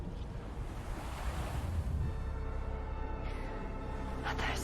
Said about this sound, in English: Are those waves? Yes, they are.